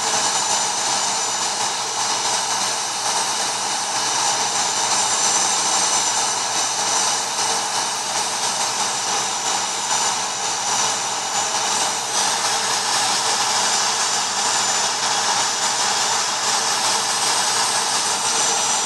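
Simulated Singapore Airlines Airbus A380-800 jet engines in the Infinite Flight game on a Kuala Lumpur to Changi flight, a loud, steady roaring drone with a high whine on top, unbroken and without voices.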